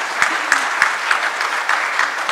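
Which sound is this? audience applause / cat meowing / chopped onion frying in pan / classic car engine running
audience applause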